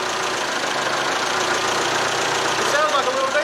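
An old TCM forklift's small diesel engine idles steadily with a low, even rumble, held slightly above idle, close and continuous with a faint whine rising near the end.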